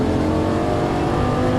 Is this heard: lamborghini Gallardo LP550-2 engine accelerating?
yes